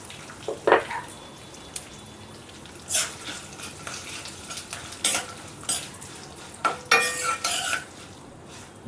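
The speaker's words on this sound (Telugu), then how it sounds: "ఇప్పుడు మన పోపుని ఫ్రై చేసుకుందామండి" Tempering of dried red chillies, curry leaves and cashews fries in oil for semiya upma, a soft sizzle under repeated sharp scrapes and clinks of a stirring spoon against the pan.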